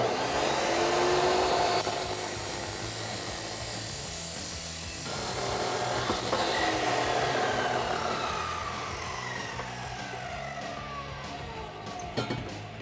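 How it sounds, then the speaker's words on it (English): A chop saw cuts through a 2.5-inch steel exhaust extension pipe for a Ram pickup, a sustained loud whining grind with shifting pitch and a few sharp clicks near the end, with no talking. "So let's go ahead and head over to the chop saw."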